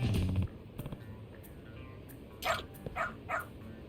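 Stray detective dog in the game Lost Judgment barking a few times, several quick yipping barks spaced apart over a low in-game background, fairly quiet, no speech during the barks.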